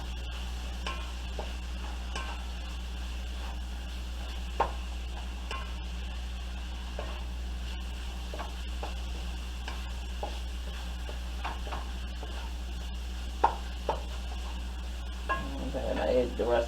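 Chili powder stirred into a pot of chili cooking on the stove, a low steady sizzle with faint scraping and occasional soft taps of the spoon, building slightly louder at the end.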